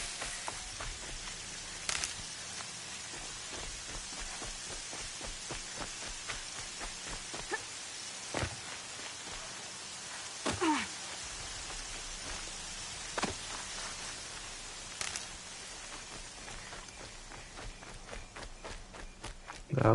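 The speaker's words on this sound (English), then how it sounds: "Raining." Rain falling in the video game Horizon Zero Dawn, a steady hiss of drizzle under footsteps running, with occasional sharper thuds and game sounds, moderately faint throughout.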